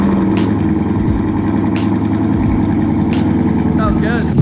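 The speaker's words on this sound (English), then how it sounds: "New exhaust is on the car, so why not take this today?" A truck fitted with a new exhaust idles close by with a steady, deep, throbbing rumble that holds an even level throughout, with brief faint sounds over the engine.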